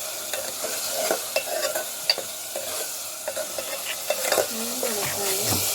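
Food is fried and stirred in a pan, giving a steady close sizzle broken by frequent irregular scrapes and clinks of the utensil, with no talking.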